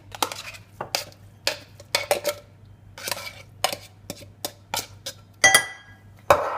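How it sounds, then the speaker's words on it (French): Utensil clinks and scrapes against a salad bowl as canned tuna is flaked for wraps, a series of short, irregular metallic taps with pauses between them. "vous prenez le thon que vous mettez dans un saladier. Vous essayez de l'émietter un petit peu"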